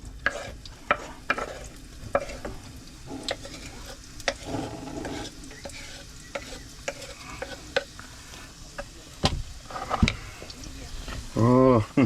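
Red onion sautéing in a pan on a camper-van stove, a steady close sizzle with frequent stirring scrapes and clicks, someone speaking over it at times.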